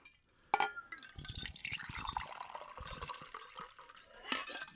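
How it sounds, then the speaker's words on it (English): A drink is poured close to a microphone into a glass, with liquid splashing and gurgling over several seconds after a sharp clink at the start, then a brighter splashy burst near the end. It is fairly quiet and unaccompanied by talk. "I made sure to pour it in front of the microphone to make sure that works."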